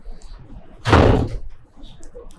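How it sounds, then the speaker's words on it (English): A door swings shut with a single short, loud thud-like slam in a quiet room, with no talk over it. "Could you please close the door?"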